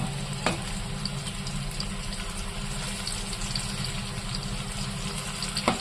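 A banana fritter fries on its second side in a pan of oil, giving a steady bubbling sizzle close by, with a couple of light clinks and no talking.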